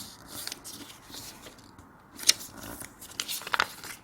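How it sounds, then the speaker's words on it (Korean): Scissors snipping through folded origami colour paper, a few quiet, crisp cuts close by with faint paper rustling in between. "이 부분을 가위로 자릅니다."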